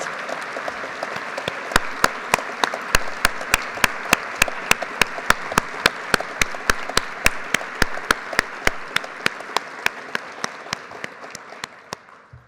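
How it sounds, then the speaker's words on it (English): Sustained applause for geoscience awardees at an awards ceremony, dense steady clapping from a large hall audience with sharp close claps standing out in a regular beat, tapering off near the end. "Let's have a round of applause for all of our awardees"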